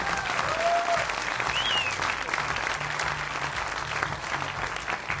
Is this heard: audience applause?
yes